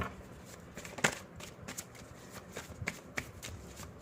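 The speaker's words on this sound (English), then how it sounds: "I've already shuffled them. I'll shuffle them once again." Tarot cards are shuffled softly up close, a quiet run of riffling flicks and taps with occasional sharper snaps.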